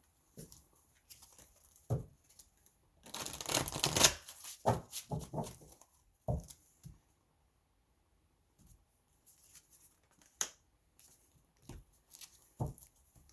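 Tarot cards shuffled and handled close up: a quick riffling burst, then scattered soft taps, slides and card flicks with quiet gaps between.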